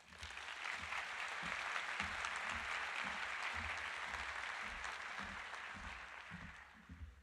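Sustained audience applause fills a hall at a medical school white coat ceremony for an incoming class, a dense steady clatter of many hands that swells early and tapers off near the end.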